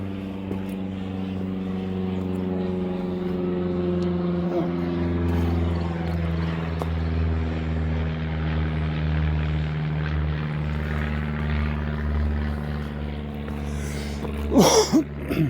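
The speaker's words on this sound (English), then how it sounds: "Prop plane." Propeller airplane droning steadily overhead through a spring campsite among old cypress trees at Guadalupe River State Park, Texas, a loud continuous engine hum with a brief clatter near the end.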